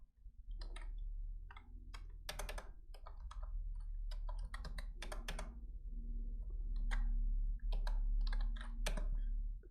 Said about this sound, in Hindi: एंटर की को प्रेस करेंगे हम।